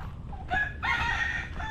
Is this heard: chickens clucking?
yes